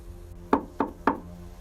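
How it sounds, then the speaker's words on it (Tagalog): Three sharp knocks on a wooden door, evenly spaced and close, each a dull woody thump in an otherwise quiet room. "Kumatok iyon ng 3 beses sa pintuan."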